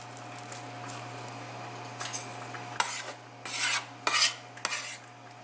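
Pierogi dough is mixed by hand, faint scraping at first, then a few louder bursts of rasping strokes near the end over a steady low hum.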